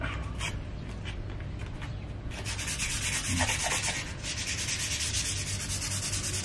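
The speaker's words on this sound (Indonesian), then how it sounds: "Ini sudah saya amplas pakai yang 500." Steady abrasive rubbing of 500-grit sandpaper on an old metal blade, continuous and close, with no talking.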